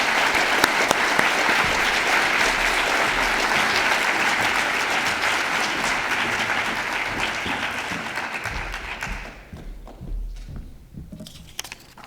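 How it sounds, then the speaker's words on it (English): An audience at a Martin Luther King Jr. Peace and Justice Award convocation applauds warmly, dense clapping that holds steady then tapers off to a few scattered claps. "please give another round of applause for the 2017 Martin Luther King Jr. Peace and Justice Award recipients"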